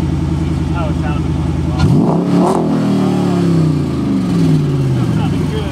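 A car engine fitted with two turbos and two superchargers revs hard, rising and falling in a loud, close roar with a rowdy edge, while people talk over it.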